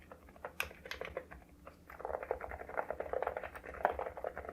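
Fast typing on a mechanical keyboard fitted with Light Feather linear switches: a soft, muted, hollow clatter of rapid keystrokes, sparse at first and then dense and continuous, close and fairly quiet.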